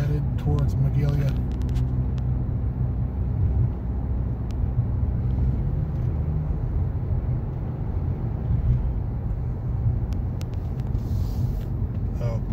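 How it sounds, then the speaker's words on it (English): Road traffic on Clark Road heading toward Magalia near Paradise, California, forms a constant loud low rumble with wind buffeting, heard close and continuous with no break. "Traffic."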